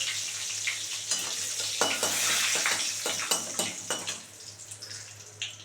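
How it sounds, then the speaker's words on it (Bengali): Bay leaf, cinnamon and crushed cardamom sizzle in hot oil for an egg malai curry, a bright steady crackle broken by repeated clinks and scrapes of stirring in the pan. "এবার ওই তেলের মধ্যে বন্ধুরা তেজপাতা আর আমি একটু দারচিনি আর এলাচ থেতো করা দিয়ে দিচ্ছি"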